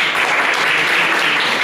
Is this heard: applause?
yes